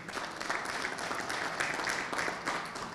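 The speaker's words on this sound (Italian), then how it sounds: "al quale rivolgerei un meritato applauso" A crowd applauds bocce player Moreno Rosati on an Italian sports program, a fairly soft, continuous patter of clapping with small swells throughout.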